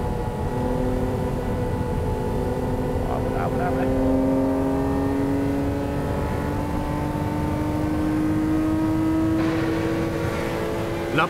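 A car engine pulls hard under acceleration in a real-car road battle, a loud, sustained drone that climbs steadily in pitch, with someone talking over it throughout.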